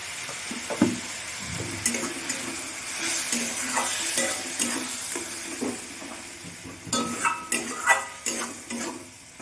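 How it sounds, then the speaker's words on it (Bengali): Turmeric and chili powder spice mix frying in a pan for Bengali ghugni, a steady sizzle broken by clinking stirs of a spoon against the pan, close by and without speech. "মশলাটা আমি ভালো করে কষিয়ে নেব।"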